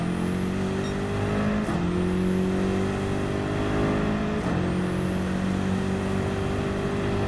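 A race car in Gran Turismo 7 accelerates on the Nurburgring Nordschleife, its engine whining steadily upward through the revs, then dropping briefly at each quick gear change, twice over, loud and continuous.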